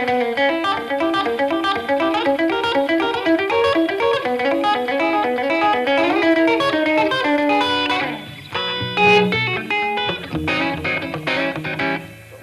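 Rapid picked guitar lick in E runs in fast, busy notes with some distortion, then breaks into choppier chords near the end; loud and close, with no talking.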